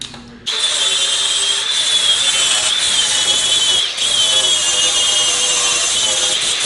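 Steady abrasive rasp of sanding down rough casting edges on an LS engine block near the left-hand starter mount, loud and continuous with a brief pause near the middle, no talking.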